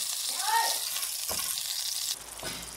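Duck pieces and broth go into a pan of sauce, raising a loud, steady sizzle with faint stirring scrapes that dips sharply near the end, then picks up again.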